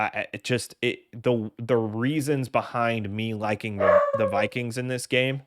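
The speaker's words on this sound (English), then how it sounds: "sorry if you can hear my dog barking in the background" A pet dog barks and yips in the background of a home setup while someone talks continuously in the foreground about a football game.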